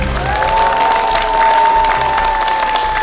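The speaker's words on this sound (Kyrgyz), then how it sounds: "Кол чабуулар болсун." Loud studio audience applause after a child answers a quiz question correctly, dense steady clapping with some cheering and a sustained tone running through it.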